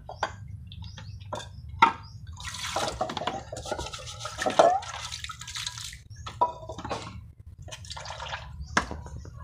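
Snails being washed by hand in water before boiling, with intermittent splashes, drips and sloshing in a basin, close up and fairly quiet, starting and stopping in short bursts with no talking.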